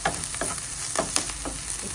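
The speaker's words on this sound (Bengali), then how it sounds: "কাঁচামরিচটা আর পেঁয়াজটা একটু ভালো করে ভেজে নেব।" Green chilies and onion frying in mustard oil in a pan for mashed potato, a steady close crackling sizzle with stirring scrapes and small pops.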